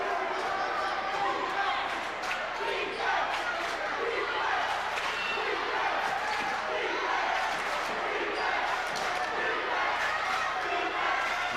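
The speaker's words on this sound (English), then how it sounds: "And some of the Holy Cross crazies are cheering on the team" A basketball crowd of Holy Cross fans cheers on their team during a game against Torrington, a dense, continuous roar of shouting voices close and loud throughout.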